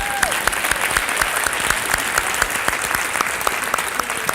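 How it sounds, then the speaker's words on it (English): A conference audience at the MIMA Summit breaks into steady, dense applause, many hands clapping together close by, with no voices over it. "Let's clap it up for these 7."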